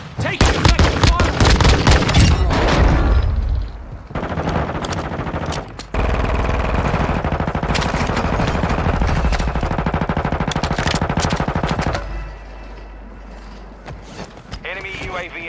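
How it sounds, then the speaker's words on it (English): Heavy gunfire in a battle royale video game, with dense rapid automatic bursts and loud shots that come in long stretches, drop off briefly, then resume. Game voice callouts and player chatter run under the shooting. "Taking effective fire!"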